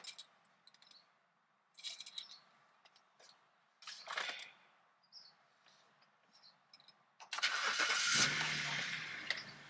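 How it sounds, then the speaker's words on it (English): A car engine starts after a new button is fitted: a few faint clicks and brief bursts, then the engine catches and runs loudly for the last couple of seconds, close by. "And my car starts as it should."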